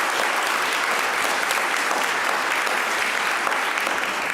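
Loud, sustained audience applause filling a room at the Mitacs Innovation Awards ceremony, a thick continuous wash of many hands clapping close by, with no voices over it.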